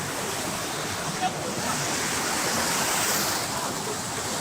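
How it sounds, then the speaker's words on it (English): Motor-driven artificial flowing water in the traditional Asakusa district of Tokyo, Japan, rushes as a steady, loud broadband wash, close by and continuous. "This is a motor drive water, not natural."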